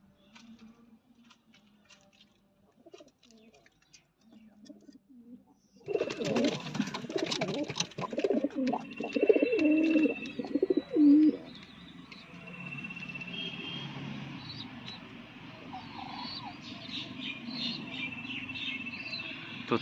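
Pet pigeons in a loft coo in soft, repeated throaty calls. Quiet rustling comes first, then a louder burst of cooing and fluttering, which eases into steady low bird murmurs.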